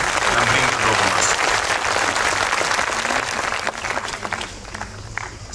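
An audience breaks into sustained, dense applause for a choir at a live concert of Greek music, loud and steady before thinning out toward the end.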